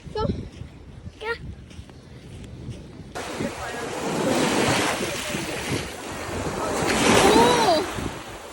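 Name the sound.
seaside waves and wind at the beach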